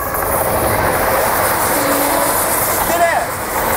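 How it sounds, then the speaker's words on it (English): A train passes nearby as a steady, broad rumbling roar with wind-like rush, continuous and loud throughout, with a brief squeal near the end. "Actually a train."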